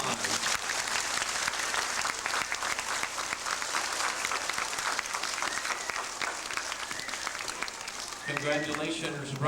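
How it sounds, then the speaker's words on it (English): At a 1999 school awards ceremony, an audience in a hall gives student writers loud, sustained applause, dense and continuous, with a few voices rising near the end. "And a great big round of applause."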